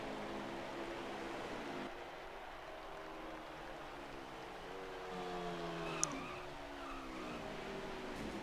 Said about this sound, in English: This will be the final lap here at Charlotte for our ARCS 3 trucks